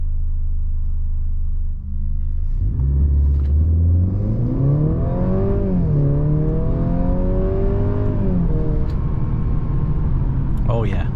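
A 2023 Mercedes C300 4MATIC sedan accelerating hard from inside the cabin, its engine rumble rising in pitch through several gears with a brief dip at a shift, loud and steady, then settling to a smooth cruise.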